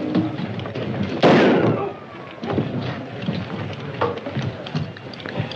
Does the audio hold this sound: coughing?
no